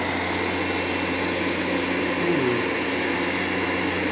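A Tesla turbine electrical generator runs at low RPM with a steady, close, loud whirring hum and airy rush, one brief tonal wobble midway, and no talking.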